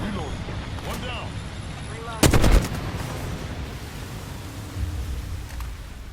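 A short burst of rapid gunfire rings out in the video game Apex Legends partway through, with fainter shots before it, and a voice talks over the background noise.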